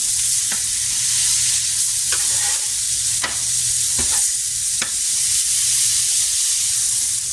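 Burger patties sizzling loudly in a pan after being flipped, a steady hissing fry broken by a few sharp spatula scrapes and taps, no talking.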